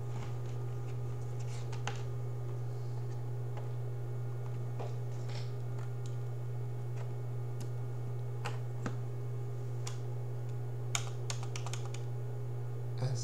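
Typing on a keyboard connected to an Orange Pi Zero: sparse, crisp key clicks come in small clusters over a steady low electrical hum in a quiet room.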